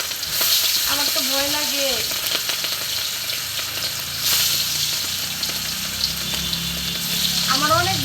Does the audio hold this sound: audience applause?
no